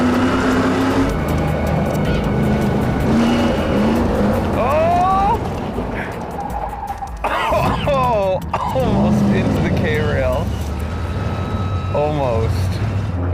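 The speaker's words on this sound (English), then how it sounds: "Oh, sideways around the corner. He got brave over there. Oh, he's drifting this corner." A street-legal stock car drifts sideways around a corner on a race track, its engine roaring close by, with squealing tires and pitch sweeps as it passes. A commentator talks excitedly over the noise.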